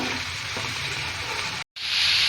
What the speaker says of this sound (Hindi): इसके लिए हमने घी में प्याज डाले,